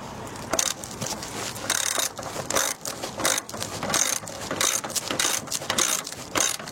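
Bolts are tightened during assembly of a standard sliding gate, with repeated close ratcheting clicks and metallic grinding bursts in an uneven rhythm, and no voices.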